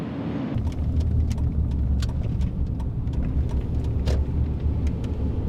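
A car cruising along a smooth road through the Nevada desert, with a steady low engine and tire rumble close inside the cabin, plus occasional light ticks and clicks over the drone.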